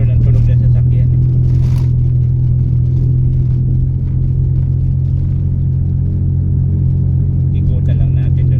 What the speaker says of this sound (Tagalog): Kilala nun ang tunog ng sasakyan eh.